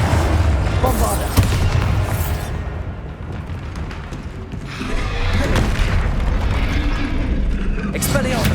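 A loud booming blast from the Bombarda spell in Hogwarts Legacy, with a heavy rumbling explosion and crackling debris over dense battle noise, continuing with further combat sounds throughout.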